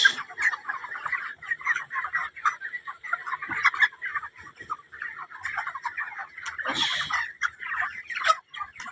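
Underweight broiler chickens of about two kilograms cluck and chatter continuously in a pen, fairly faint, with brief louder squawks in between.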